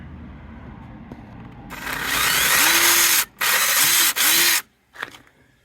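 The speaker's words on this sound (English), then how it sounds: "I'm gonna drill a hole in this one in the corner." A power drill whirs in three bursts, the first longer, with its motor pitch rising and falling, then a short final buzz, while drilling a hole in the corner of a truck headlight housing.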